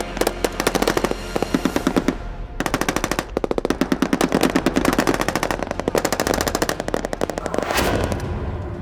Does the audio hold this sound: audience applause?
no